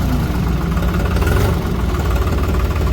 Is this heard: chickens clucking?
no